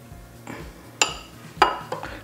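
A knife cuts into a very creamy burrata cheese on a plate, giving three or four sharp, separate clinks against a faint, steady background hum.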